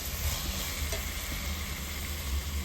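Sautéed tomatoes for a pumpkin and country chicken curry are stirred in a hot pan, a soft continuous sizzle with scraping spoon strokes close up, no talking.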